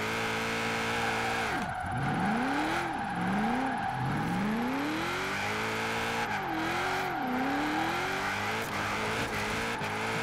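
A Mitsubishi Lancer Evolution X drifts in Forza Horizon 4, its engine revving high and swooping up and down in pitch through the slides while tires squeal continuously, loud and close throughout.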